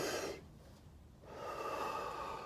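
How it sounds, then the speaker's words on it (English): One deep breath drawn into the diaphragm, heard as a close, audible inhale, then a short pause, then a longer exhale, with no talking. "take deep breaths into your diaphragm"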